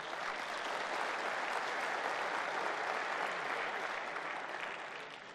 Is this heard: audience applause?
yes